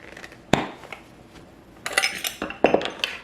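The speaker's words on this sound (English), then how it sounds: "And I'm gonna start chopping the pimentos." A knife chopping jarred pimento peppers in a bowl, with a sharp clack near the start and clusters of quick clicking cuts toward the end, close and fairly quiet.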